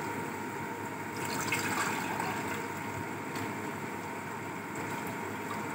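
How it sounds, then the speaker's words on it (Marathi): Toor dal is rinsed twice in water in a home kitchen, giving a steady wash of swishing and running water at moderate loudness with no talking. "आता आपण तूर डाळ स्वच्छ धुवून घेऊया 2 पाण्याने।"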